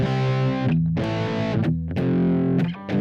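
A distorted electric guitar plays a slow chord progression, each chord ringing thick and sustained before shifting to the next.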